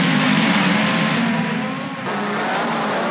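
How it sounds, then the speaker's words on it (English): A midget race car roars loudly and continuously around the Western Springs Speedway dirt track during a Boxing Night feature race, its engine note dipping briefly before surging again, with no talking. "Brand new race car for Brian Clausen."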